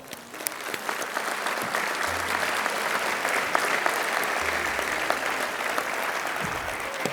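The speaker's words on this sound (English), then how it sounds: "So let's give them all a big round of applause." Sustained applause from a large audience at a formal award dinner, steady and dense clapping filling the room for several seconds without a break.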